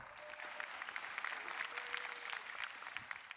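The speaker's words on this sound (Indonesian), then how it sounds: "Tepuk tangan untuk mereka berdua." A studio audience claps at a stand-up comedy competition show, a soft, steady patter of many hands sustained throughout with no voices over it.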